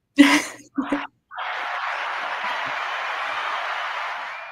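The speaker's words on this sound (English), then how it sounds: "Wait, I got to push the applause button here" Canned applause fired from a studio button on a radio show, a short burst of voice first, then a steady wash of clapping that holds evenly for about three seconds and tapers off.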